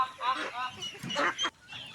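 Domestic ducks raised at a home farm give several loud, close honking quacks in quick succession, with brief pauses between calls and a softer call at the end.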